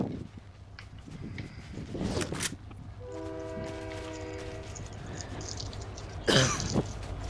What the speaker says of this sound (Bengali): ট্রেন আসতেছে মনে হয়।